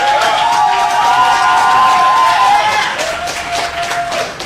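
A crowd at a Black Women's Pay Equity Day celebration in Chicago claps and cheers for Mayor Brandon Johnson, sustained and lively, with shouts rising through it and a voice talking over the noise.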